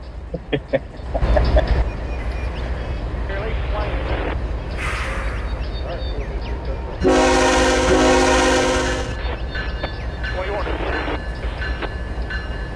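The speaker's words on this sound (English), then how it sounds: "That right there has to be the best freaking e-bell I've ever heard in this game." A locomotive's electronic bell and warning tones ring out on the Conway Southern line in the Trainz railroad simulator, a loud sustained blast over a constant rumble of rolling rail cars, with quieter tonal passages before and after.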